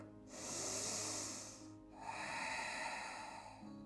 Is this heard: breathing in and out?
yes